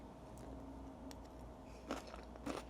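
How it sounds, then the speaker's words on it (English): A few soft crunchy bites and chews of tofu salad with crunchy vegetables, quiet and close, with two sharper crunches near the end. "I'm gonna try a bite since I've never had this before"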